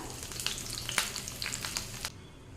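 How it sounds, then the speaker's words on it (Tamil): Mustard seeds, a dried red chilli and curry leaves fry in hot oil for a tempering, giving a close, steady sizzle with quick crackling pops that ease off abruptly near the end. "இப்போ கடுகு நல்லா பொறிஞ்சிடுச்சுங்க"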